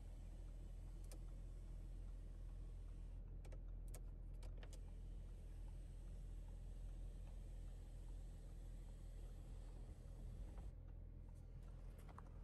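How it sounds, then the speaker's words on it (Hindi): The panoramic sunroof motor of a 2021 Audi S5 Sportback Quattro runs with a steady, low electric hum inside the cabin, punctuated by a few faint clicks. "और ये है पैनोरामिक सनरूफ"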